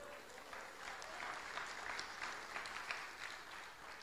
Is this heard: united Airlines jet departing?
no